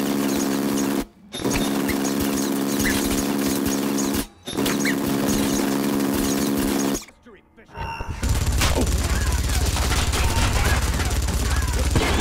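Gunfire in Splinter Cell: Conviction, played on realistic difficulty at the White House, comes as sustained automatic bursts broken by brief silences, then gives way to a louder, noisier rumble at the end.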